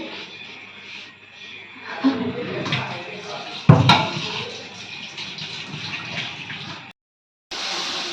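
Raw chicken being washed in water, with splashing, gurgling and running water in a kitchen, a sharp knock or clatter midway, a brief silent gap near the end, and faint voices underneath.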